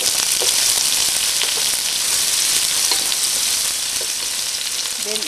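Onion frying in about a tablespoon of cooking oil with garlic for pork and chicken afritada: a dense, constant, close crackling sizzle, with a few light stirring clicks and no talking.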